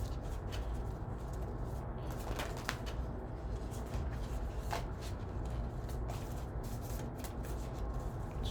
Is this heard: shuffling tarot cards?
yes